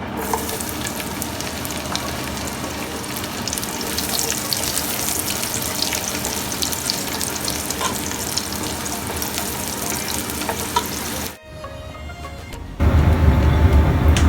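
Garlic frying in hot butter for shrimp pasta, a loud continuous crackling sizzle close up that drops out briefly before surging back even louder.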